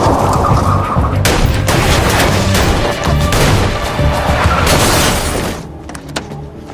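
Loud rapid gunfire crackles in dense bursts over a rumbling background, then fades out near the end.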